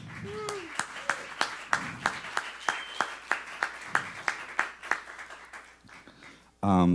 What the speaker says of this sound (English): ladies and gentlemen, please clap Danilo Perez